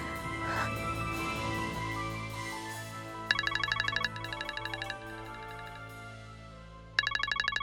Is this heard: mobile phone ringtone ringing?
yes